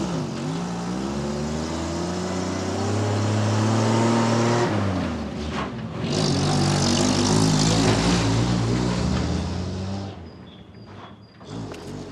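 An engine roars loudly with rising and falling pitch, then fades and recedes into the distance near the end.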